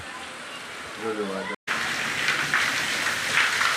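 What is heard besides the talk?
heavy rain falling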